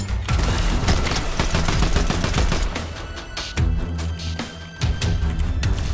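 Rapid gunfire hits the player in the video game Fortnite, a loud dense barrage of shots in quick bursts with heavy impacts, no talking.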